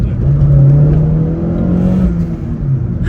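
Opel Corsa OPC Nürburgring Edition engine revving as the driver drops from third into second at about 60, a loud, close rise in engine pitch that sustains and slowly falls away, heard from inside the car.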